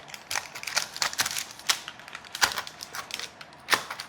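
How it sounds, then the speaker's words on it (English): A knife cuts through a pan of shortbread made with chorizo, eggs and cheese, slicing it into rectangles. Close, crisp ticking and crunching contacts come in an irregular series, with no talking. "I'm just gonna cut this into rectangles."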